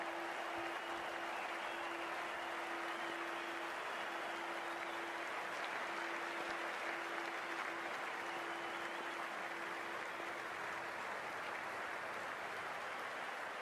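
A stadium crowd at a cricket match in Cricket 24, India versus England at the 2023 World Cup, keeps up a steady, dense roar of cheering and applause throughout, with a faint repeating tone beneath; no clear speech.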